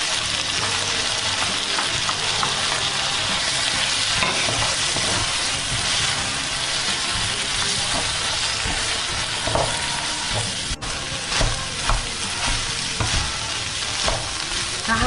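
Crab meat fries in a pan of rice with a loud, dense, continuous sizzle and frequent scraping stir strokes throughout, no speech.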